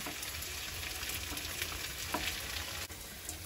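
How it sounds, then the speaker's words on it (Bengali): Vegetables frying in a pan, a steady, close hiss and crackle of sizzling oil that carries on evenly with a few faint stirring scrapes. "তো সবজিটা প্রায় ভাজা হয়ে গেছে"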